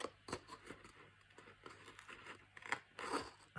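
Scissors snip through paper up close in a string of short, crisp cuts with brief pauses and a light crinkle between them, faint and with no one talking.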